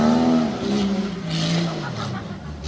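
A race truck engine at a Storm Tough Trucks event in Meyersdale, PA roars loudly and revs hard, pitch rising and dipping as it charges aggressively into the final roundabout.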